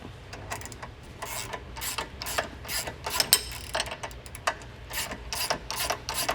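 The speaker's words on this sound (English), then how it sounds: "I'm removing the lower sway bar end link here with a 16 and 15 millimeter wrench." A wrench works loose the lower sway bar end link on a Dodge Charger, a series of quick ratcheting clicks and metallic scrapes in irregular bursts, close by in a quiet garage.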